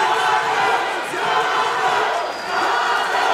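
A loud arena crowd roars and shouts continuously during a bantamweight MMA main event bout at XFN 35, a dense steady wall of voices that dips briefly and swells again.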